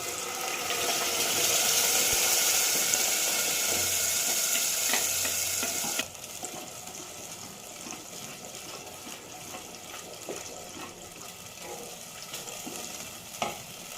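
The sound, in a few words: ground masala frying in a pan with ginger and garlic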